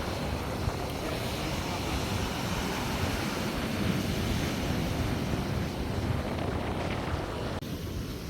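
Sea waves wash in and pull back along the shore in a continuous rushing roar, with wind buffeting the microphone and a voice speaking faintly at times.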